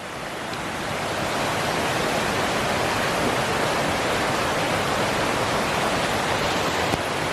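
Sitakund waterfall pouring into a clear pool, a dense, continuous roar of falling water that fills the whole scene at steady loudness, close by, with no voices.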